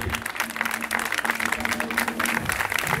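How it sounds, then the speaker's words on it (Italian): Steady applause from a crowd at a live concert, dense clapping sustained throughout at a loud, even level. "Facciamo un applauso più forte a Valentina Borchi."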